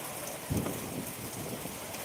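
Heavy rain driven by strong wind makes a soft, even roar throughout, faint and distant, with a brief louder gust near the start.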